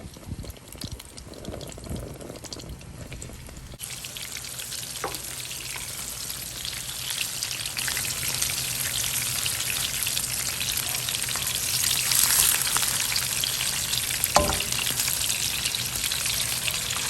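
Fish fries in hot oil in a batch for a fish curry, a loud continuous sizzle with dense crackling that swells after the first few seconds, broken by a couple of sharp clinks.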